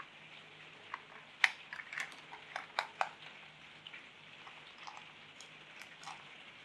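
Soft, steady patter of rain outside on a rainy day, with scattered sharper drips and taps, fairly quiet and distant, no voices.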